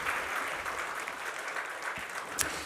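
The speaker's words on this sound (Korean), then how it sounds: "우리 인사하고 들어가실 때 같이 한번 뜨겁게 박수로 환영하고 격려하겠습니다" A church congregation claps steadily during a Sunday morning service to welcome four elders as they are introduced and return to their seats, a broad even applause with a faint voice briefly heard near the end.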